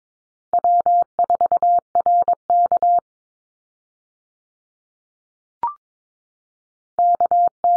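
The amateur radio call sign W4RK goes out in Morse code at 22 words per minute as a clean, steady tone of dots and dashes. It is sent twice, with a silent gap between the two, and a single short blip falls inside that gap.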